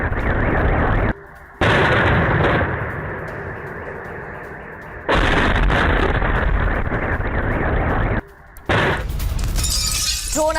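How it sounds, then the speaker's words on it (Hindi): Loud, sustained blasts and crashing debris from a Ukrainian drone attack on Kursk, with dense roaring bursts broken by two short drops before the noise surges back, ending in sharper shattering cracks. "शहर के अलग अलग इलाकों में धमाके हुए हैं।"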